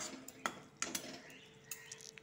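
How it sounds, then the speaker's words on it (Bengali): A few light metal clinks and scrapes as dahi potol, a yogurt and pointed gourd curry, is stirred in a pan, quiet and close with short gaps between strokes. "এখন একটু নাড়াচাড়া দিব।"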